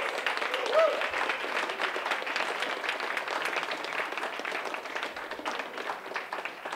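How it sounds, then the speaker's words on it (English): A round of applause at a school Student of the Month ceremony greets the championship math team entering the room, moderately loud, steady clapping with voices talking over it. "If we could give them all a round of applause."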